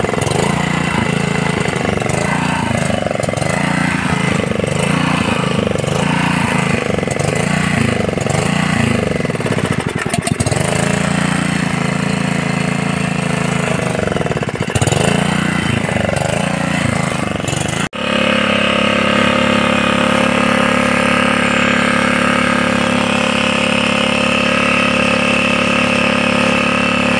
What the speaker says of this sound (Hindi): देखिए मेरा कंप्लीट हो चुका है और एक किक में स्टार्ट हो रहा है।